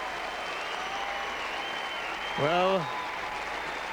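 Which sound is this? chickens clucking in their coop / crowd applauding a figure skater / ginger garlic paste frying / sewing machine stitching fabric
crowd applauding a figure skater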